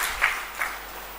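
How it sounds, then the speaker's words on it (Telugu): A church congregation at a Telugu Christian gathering claps briefly in praise, a short wash of hand claps at moderate distance. "చప్పట్లు కొట్టి దేవుని స్తుతిద్దాం."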